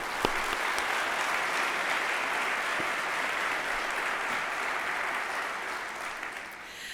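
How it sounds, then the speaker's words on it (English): A room full of people claps steadily in sustained, even applause that holds at full strength before tapering slightly at the very end. "Round of applause for everybody."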